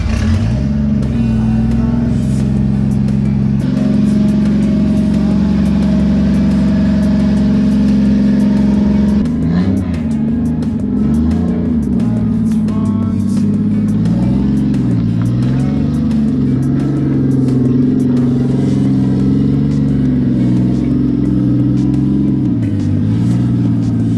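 Car engine revving loudly as a car is moved out of a garage, a steady close rumble with rising and falling throttle swells throughout, no talk.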